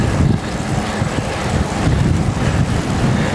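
Strong headwind roars across the microphone while a cyclist climbs in Calpe, a loud, continuous low buffeting that fills the whole moment without letup.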